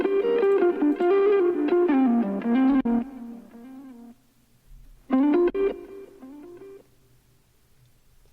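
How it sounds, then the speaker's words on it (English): An electric guitar phrase runs through a Soundtoys EchoBoy dual echo, bright plucked notes trailing off into repeating delays, a pause, then another burst of notes that fades into echoing tails. "we have Echo Boy from Sound Toys, just doing some dual echo"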